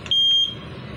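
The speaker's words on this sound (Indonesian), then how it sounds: "Once he detects that there is leakage of gas, it will alarm" A gas detector alarm, model SE230KG, gives one loud, high electronic beep lasting under half a second, then a low steady hum continues alone.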